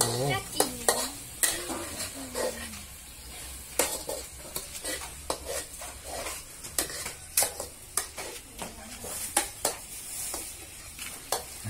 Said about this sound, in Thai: ผัดตั้งอย่างนี้ลูก งัดขึ้นตลบนะ